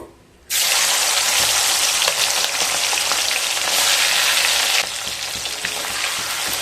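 Prawns (chingri) hit hot oil and burst into a loud, dense sizzle that holds steady, then eases slightly but keeps crackling close by.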